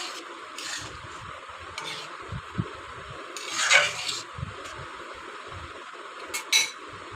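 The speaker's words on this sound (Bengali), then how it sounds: "এবার ভালো করে আমি কষিয়ে নেব।" Chana dal is stirred and sautéed with tomatoes in a pan: soft scraping and rubbing from a spoon, with occasional clinks of metal against the pan and a faint hiss from the cooking underneath.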